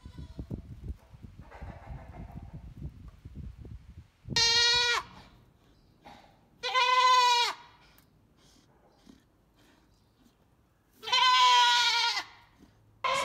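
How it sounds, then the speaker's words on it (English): A goat in labor with a difficult birth bleats loudly three times, long wavering cries separated by quiet gaps, following some soft rustling at the start. "I've almost never heard this goat's voice"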